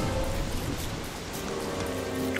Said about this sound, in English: it's rainy and it's dark out